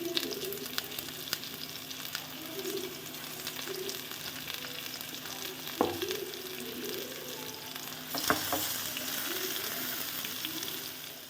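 Fish fries in a pan in a home kitchen with a soft, continuous sizzle, broken by a couple of sharp knocks from utensils. No one talks.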